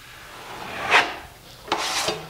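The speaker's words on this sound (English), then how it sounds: "I'm gonna cut and blend that right up into the corner." A drywall knife scraping joint compound into an inside corner, two short rasping strokes close by, the second longer, separated by a quiet pause.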